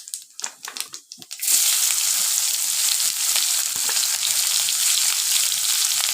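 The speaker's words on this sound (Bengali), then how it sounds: "আর একটু জিরা ফোড়ন দিয়ে দিচ্ছি" Cumin seeds dropped into hot oil for a Bengali egg curry, a few scattered crackles and then a sudden loud, steady sizzle that carries on alone close to the pan.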